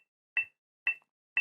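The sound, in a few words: metronome clicking at 120 bpm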